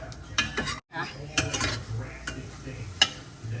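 Eggs cooking in a pan for a home breakfast, with clinks of a utensil against the pan and stirring scrapes over a soft sizzle, several sharp taps spaced through the short stretch, near and moderately loud.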